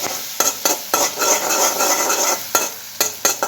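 Turmeric being stirred into sizzling tempering spices in a pan for no-onion, no-garlic aloo bonda, a spoon scraping and clinking against the metal in irregular strokes over a steady close fry.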